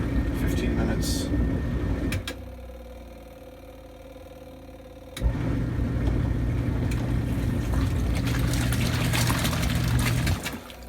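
An off-grid washing machine in an RV, powered by a generator, starts up and fills with water: a steady rushing pour alongside a low engine drone, a pause, then a click and the flow resumes, close and moderately loud.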